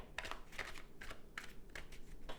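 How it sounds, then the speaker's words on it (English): Tarot cards are shuffled in five quick riffling bursts, soft, crisp flutters separated by short pauses, close by and quiet. "So I'm going to shuffle 5 times."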